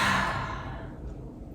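Audible exhale during a Pilates stretch in an arched-back position, a soft breathy sigh that starts strongest and tapers over about a second and a half, close to the microphone, with no talking.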